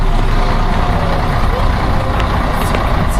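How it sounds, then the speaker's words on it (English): A bus pulls up and idles close by in Dachau, Germany, its steady low engine rumble filling the scene, with people talking faintly in the background. "Our bus is here, everybody."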